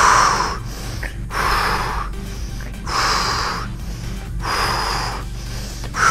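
Heavy rhythmic exhales and breathing during an arms, abs and calves workout, about five forceful, breathy puffs evenly spaced, close to the microphone with no talking.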